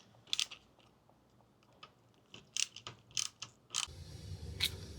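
A 16-in-1 ratcheting multi-bit screwdriver with S2 steel bits produces a series of sharp metallic clicks and snaps as bits are switched and locked in, quiet and close with irregular spacing.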